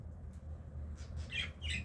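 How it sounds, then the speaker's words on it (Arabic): Newly hatched chicks just out of a box give sharp, high squawks, several short calls bunched in the second half over a low steady background hum, fairly close. "هادو هما الوليدات اللي خرجوا من الصندوق"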